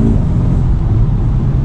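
A 2020 Mercedes-Benz A35 on a test drive gives a loud, close, deep engine rumble under acceleration, with steady low droning and road noise and no talking.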